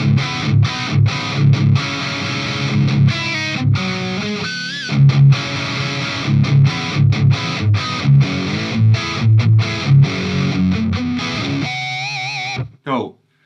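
Distorted rhythm guitar through a Marshall JCM 800 amp fitted with 6550 power tubes, loud and chugging in tight palm-muted bursts and short gaps, with sustained chords between, ending in a brief squeal and a last stab.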